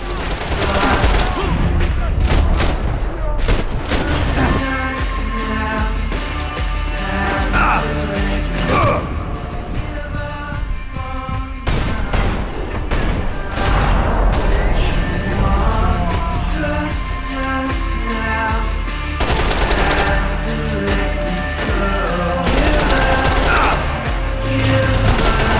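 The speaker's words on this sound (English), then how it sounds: "Grenades." Grenade blasts and rapid gunfire during a Max Payne 3 shootout, dense bursts of shots and booms running throughout alongside a tense music score, with occasional voices.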